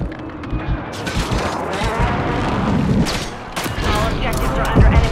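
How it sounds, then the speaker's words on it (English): Airstrike in Call of Duty Modern Warfare III on a Domination match, a dense fusillade of booming blasts and rolling gunfire rumbling continuously, with several sharper loud bursts near the end. "Airstrike in the AO."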